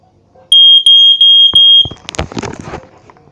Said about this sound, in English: Status KD134A smoke alarm. We'll go ahead and test it.